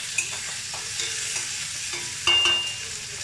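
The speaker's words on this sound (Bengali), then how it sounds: "এবার এটাকেও একটু ভাজা ভাজা করে নেব।" Onions fry in a pan with eggplant, a steady close sizzle broken by a few clinks and scrapes of stirring, with one louder burst of crackling near the end.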